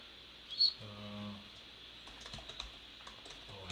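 Computer keyboard being typed on, soft scattered key taps at a moderate distance, joined by a brief tonal hum early on.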